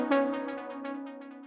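Progressive house synth chord pushed through overdrive and glue compression, a dense gritty tone pulsing in rapid rhythmic swells, fairly quiet, with no talking.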